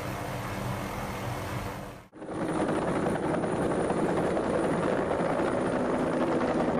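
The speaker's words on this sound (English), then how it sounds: "this CH-46 Sea Night helicopter came up short on landing during a training exercise off the coast of San Diego" A CH-46 Sea Knight helicopter on a training exercise off the coast of San Diego gives a loud, steady rotor and engine roar that cuts out abruptly for a moment near two seconds, then resumes at full strength.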